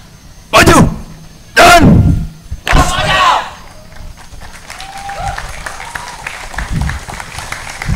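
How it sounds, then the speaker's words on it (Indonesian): Audience applause and cheering for a school performance group from SMA Negeri 1 Tarakan: three loud, close bursts of claps and shouts in the first few seconds, then fading to quieter scattered crowd noise. "Sekali lagi tepuk tangan yang meriah untuk SMA Negeri 1 Utara kan"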